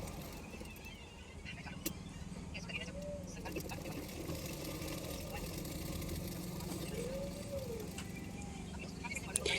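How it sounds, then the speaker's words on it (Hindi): A sewing machine stitches a padded blouse, running as a faint continuous whir and hum close by for the whole stretch, with someone talking quietly over it at times. "अभी मैं सिलाई कर लूँगी।"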